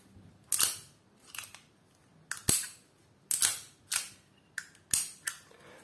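A Walther TPH pistol gives a function check: around ten sharp, close metallic clicks and snaps from the slide and trigger, spaced irregularly with short pauses and no talking.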